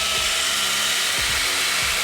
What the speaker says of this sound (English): I'm going to go in with the chainsaw